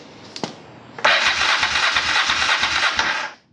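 A Honda Transalp motorcycle's starter cranks in rapid rhythmic pulses for a couple of seconds after a few faint clicks, then stops without the engine catching.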